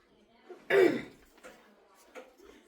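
A single short cough close to the mic, followed by faint murmuring voices and small breathy sounds.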